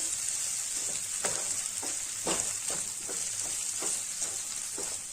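A corn dish sautéing in a pan, with a steady soft sizzle broken by repeated rhythmic scrapes and taps of a spatula stirring the food.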